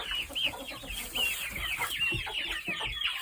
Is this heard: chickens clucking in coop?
yes